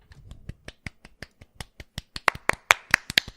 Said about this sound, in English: are we clapping for each other?